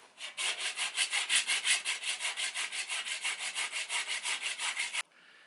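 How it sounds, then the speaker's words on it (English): A steel rasp rasps an oak axe handle in steady back-and-forth strokes, about two dozen rhythmic, close and fairly loud scrapes with no talk, ending abruptly. "we'll use a rasp to get us close just because it's quick"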